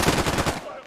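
Rapid automatic gunfire in a video game gunfight on the Logar Skirmish map, a brief loud burst of closely spaced shots lasting about half a second before fading.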